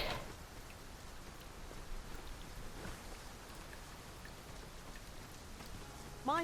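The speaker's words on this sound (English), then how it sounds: "Mind the rain, Master. The weather may yet turn fierce." Steady rain falls in the video game Dragon's Dogma 2, a continuous soft hiss with scattered drops throughout, fairly quiet, with a brief louder burst at the very end.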